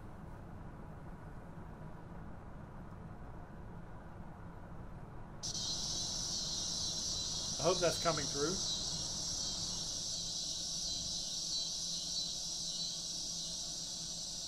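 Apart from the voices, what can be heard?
annual cicadas droning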